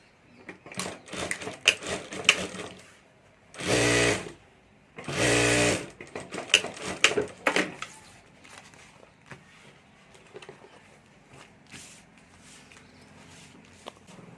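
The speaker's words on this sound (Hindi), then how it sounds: "और यहाँ हमें सिलाई कर देनी है।" A sewing machine stitches a handbag in two short, loud bursts of rapid mechanical whirring, with fabric handling and tapping between and after them.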